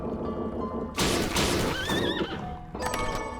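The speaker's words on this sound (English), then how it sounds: "Oh, there's a horse." A loud, close horse whinny rises and wavers over a steady musical background in the video game Bloodstained: Ritual of the Night. It lasts a little under two seconds before the music continues alone.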